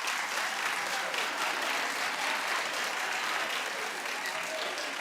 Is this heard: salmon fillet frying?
no